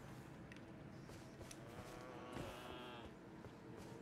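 Madness goats bleating in the Elden Ring Shadow of the Erdtree game world, a wavering animal cry rising over a dense, steady background of game ambience, with no one talking.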